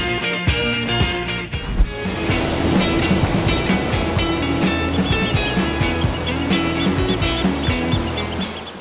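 Ocean waves on a quiet beach in South Garut wash in as a steady loud roar of surf, with a few sharp knocks near the start.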